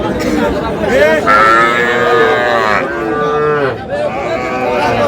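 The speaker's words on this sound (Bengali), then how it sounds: "ষাঁড় বাচ্চা, ষাঁড়।" Young bull calves at a cattle market moo repeatedly, loud and close, with long drawn calls overlapping amid crowd chatter and nearby voices.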